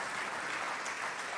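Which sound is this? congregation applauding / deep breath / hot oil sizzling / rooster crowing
congregation applauding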